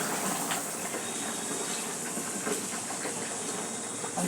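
Minced chicken frying in a pan while being stirred, producing a dense, steady hiss and sizzle close up with faint scraping underneath and no voices.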